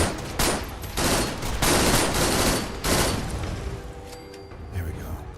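Sustained bursts of gunfire in the modded video game Fallout 4, in a fight on a harbor, rattling loudly in rapid volleys for several seconds before easing into scattered shots and faint distant booms.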